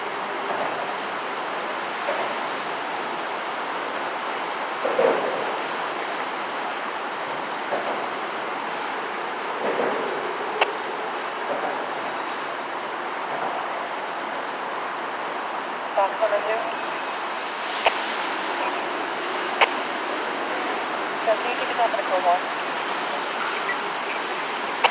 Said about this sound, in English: A lot of water still coming out of here, out of the ground.